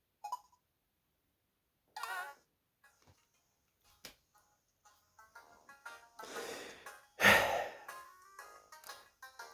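Several sighing voices from the video game Rhythm Heaven after an okay rating, short breathy exhales spaced apart at first, then a cluster of louder sighs near the end, over otherwise near silence.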